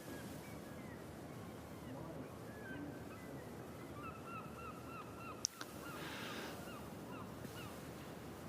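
Seagulls call above a large outdoor crowd on Whitehall in London during a Remembrance Day service, faint, drawn-out cries drifting over a steady hush of ambient noise, with one sharp knock partway through.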